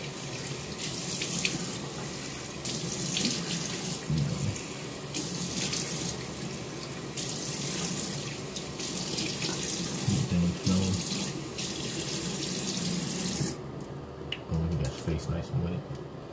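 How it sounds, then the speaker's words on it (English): Tap water runs steadily from a faucet into a sink while a face is splashed and prepped with water, a continuous close hiss with occasional splashes. "I prep my face with a little bit of water."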